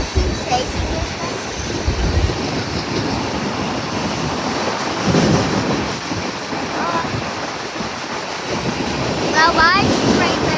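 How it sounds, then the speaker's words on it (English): Freight train passing outdoors with a long, rolling rumble and rattle of cars that rises and falls, buffeted by wind noise on the microphone, with brief squeals near the end. "I think we're just gonna say goodbye, freight train."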